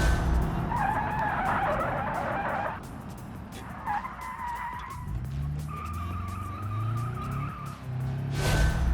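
Car tires squeal and skid under late braking in the BeamNG racing game, a loud sustained screech that breaks off and returns over engine roar, with a final burst near the end.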